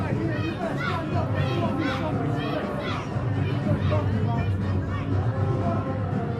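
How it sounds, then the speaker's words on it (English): Wrestling crowd at a BWE Fallout 2016 show, a dense, steady roar of voices and chanting filling the hall, with a commentator talking over it throughout. "Some of the crowd chanting greasy."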